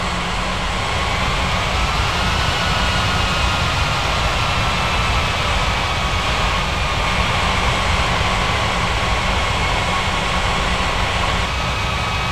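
Steady, loud jet engine whine and rumble from an aircraft taxiing on the ground at an airport, holding a constant roar throughout with a faint tonal hum drifting slightly in pitch.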